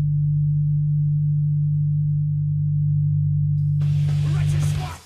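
Low-frequency band of a mouth-made V10 engine imitation, heard as a steady deep hum that holds continuously, joined by a brief wideband hiss near the end before fading out.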